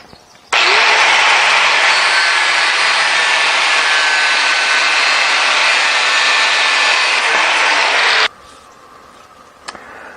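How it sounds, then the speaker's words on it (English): Angle grinder fitted with a cutting blade slicing through a metal rod, a loud, steady, close high-pitched whine that starts abruptly, holds for about eight seconds, then cuts off into quiet room noise. "I'm going to go cut that off using my angle grinder and a cutting"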